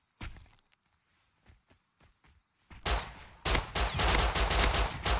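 Gunfire in the survival game Rust: a few scattered thuds early on, then a loud, dense stretch of rapid close shots and impacts in the second half, with no talking.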